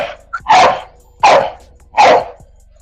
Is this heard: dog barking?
yes